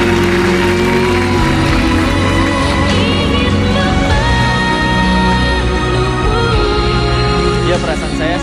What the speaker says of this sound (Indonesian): Tepuk tangan sekali lagi untuk Randy dan Ute